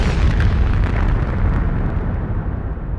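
A dense, continuous roaring blast depicts the explosion of the munitions ship Mont Blanc in Halifax harbour, loud and rumbling throughout with no pause.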